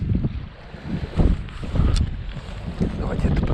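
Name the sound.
strong wind while fishing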